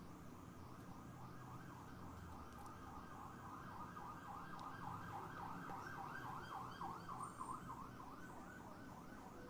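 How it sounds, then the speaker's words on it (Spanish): An ambulance siren wails outside, faint and distant, its rising and falling yelp repeating steadily over low traffic rumble. "Esto me suena como Atlanta con tanta ambulancia, sirena."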